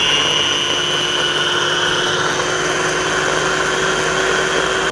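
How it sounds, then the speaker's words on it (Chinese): A high-speed blender grinds breadcrumbs with salt and pepper into a finer powder, its motor a loud, steady whine that runs unbroken for several seconds with no talking. "我们稍微破壁机把它搅成稍微细点的粉"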